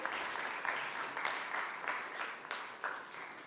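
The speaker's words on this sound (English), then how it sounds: "Can we have a round of applause?" A hackathon audience gives a round of applause, a dense, sustained clatter of clapping that rises and dips slightly in waves, with no talking over it.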